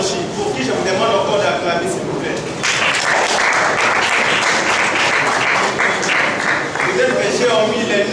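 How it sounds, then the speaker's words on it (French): An audience at a university student coordination visit breaks into loud, sustained applause and cheering, dense clapping that swells and continues throughout, with voices mixed in. "pour qui je vous demande encore d'acclamer, s'il vous plaît"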